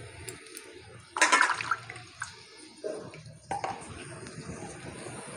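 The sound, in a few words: water poured into cooking pan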